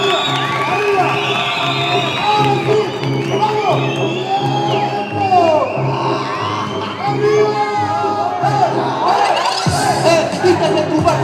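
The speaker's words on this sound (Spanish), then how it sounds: "Fuerte aplauso," A rowdy crowd at a Spanish-language rap battle semifinal claps, whoops and cheers continuously and loudly, with a host's voice shouting over the din.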